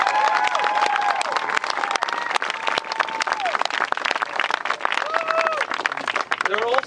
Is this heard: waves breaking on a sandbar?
no